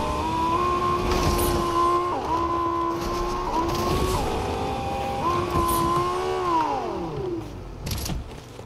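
A car in a battle-royale style video game drives along, its engine droning and revving in steady tones that dip at each gear shift before winding down, with no voices heard.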